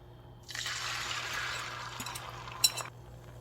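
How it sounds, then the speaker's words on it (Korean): Beaten egg poured into a preheated pan of cooking oil for a water dropwort omelette roll bursts into a close hiss that holds for a couple of seconds, ending with a brief light clink. "예열된 팬에 식용유 넣고 계란을 부어줍니다"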